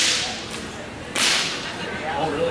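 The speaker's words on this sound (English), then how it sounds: "And you just crack it and then pet them with the whip." Two quick whooshing cracks of a horse-training whip sound a moment apart, sharp and near, with no voices.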